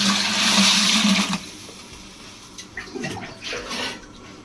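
Water poured from a vessel into a container during Bakrid festival cooking, a loud gushing pour for over a second that ends abruptly, followed by quieter clinks and handling sounds.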